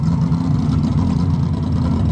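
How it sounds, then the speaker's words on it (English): A car engine with its ignition timing badly off runs on its racing spark plugs, giving a steady, rough, loud low rumble up close for the whole stretch, with no voices. "I got this thing running now."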